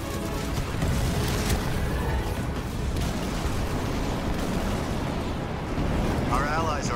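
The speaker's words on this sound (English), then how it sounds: "I'm getting hit from artillery." Artillery shells pound a base during a Halo Wars 2 skirmish, a dense, continuous rumble of overlapping explosions and bursts that stays loud for the whole stretch.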